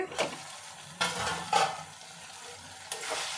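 Tomatoes and potatoes fry in a pan with a soft, low sizzle, and several distinct stirring scrapes break in at intervals, close by.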